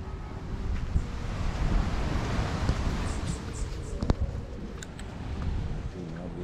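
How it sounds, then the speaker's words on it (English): Ocean waves and wind at a beach resort in Grenada, a steady broadband wash of surf with gusty wind rumble across the microphone, continuous and fairly loud throughout. "The ocean is right there."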